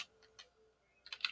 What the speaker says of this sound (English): I'll simply start typing in the company name that I'm looking to do